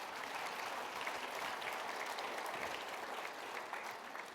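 Steady applause from a conference audience at an economic policy event, a dense crackle of clapping hands held at moderate distance throughout, with no voices over it.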